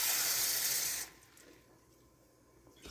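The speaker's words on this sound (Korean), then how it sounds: "그리고 물 2컵을 넣어." Two cups of water poured into a pot of seasoned pork ribs for braising, a bright splashing rush for about a second that quickly stops, leaving a quiet room.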